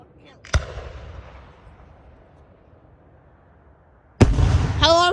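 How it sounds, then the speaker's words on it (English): Fireworks from a local fairground show burst overhead: one sharp bang with a fading rumble, a long lull, then a second loud blast followed by crackling. "How long is this fireworks show?"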